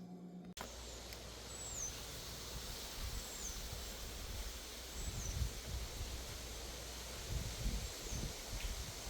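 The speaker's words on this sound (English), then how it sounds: "The weather outside is a phenomenal fall day with the wind blowing through the sugar cane and the pecan trees" Wind gusting through sugar cane and pecan trees on a fall day, a broad rustling wash that swells and eases, with a few distant bird chirps and a faint low rumble beneath.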